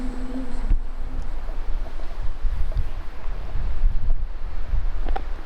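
Strong wind gusts roar steadily across an outdoor swamp at night, a continuous low rumbling buffet against the microphone with a few faint knocks, and no voices.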